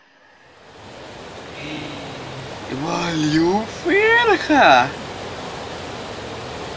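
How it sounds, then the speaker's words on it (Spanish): A giant wave in the video game Sonic Adventure DX builds into a broad, roaring wash of water that swells and sustains, heard under an excited voice speaking over it. "No me acordaba que una ola gigante aparecía"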